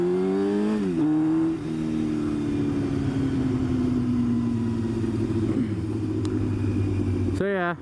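A motorcycle with an aftermarket exhaust rumbles steadily at idle and revs briefly near the start and end, loud and close, while someone talks over it.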